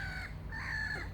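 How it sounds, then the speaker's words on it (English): Seagulls call at the seaside in a short run of bright, wailing cries, one rising call fading as a second swells, carried over a steady low rumble of wind and surf with no voices. "if the seagulls will let me get a word in edgewise"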